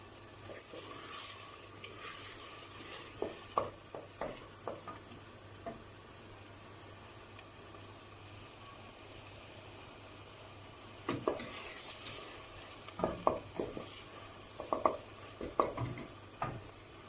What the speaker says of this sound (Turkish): Salçamızın kokusu çıkana kadar kavuruyoruz.